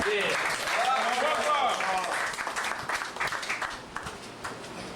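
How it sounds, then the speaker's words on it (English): Audience applause at a 2006 tribute gathering for Queen Adilah Sharif, a steady wash of many hands clapping that swells and then thins out, with voices and cheering mixed in over it. "So y'all can get his brother a round of applause."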